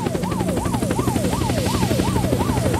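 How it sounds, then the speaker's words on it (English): A helicopter in the video game Unturned, with steady rhythmic rotor thumping and a looping, rising-falling whine, loud and continuous throughout. "Ooh, that's a helicopter."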